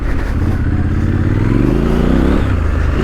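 Triumph Scrambler 1200XE motorcycle ridden off-road, its engine droning steadily and then climbing in pitch as the throttle opens, loud and close with some clatter under the revving.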